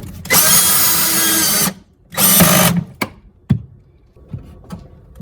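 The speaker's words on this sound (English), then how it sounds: "I am using a power tool, power drill." A power drill drives bolts into a microwave oven during installation, with two long whirring bursts followed by short clicks and knocks of the tool and hardware, near and loud.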